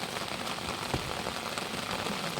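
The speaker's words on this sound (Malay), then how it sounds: "hujan lebat." Heavy rain pours steadily at a riverside fishing spot in the upper reaches, a dense, even hiss of drops drumming on surfaces, close and continuous with no voices.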